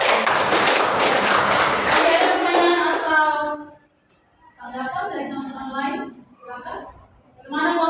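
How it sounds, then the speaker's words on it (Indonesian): A classroom audience claps together, loudly and densely, for about three seconds. The applause then stops and a few bursts of voices follow. "Tepuk tangan untuk Mita dan juga teman-teman."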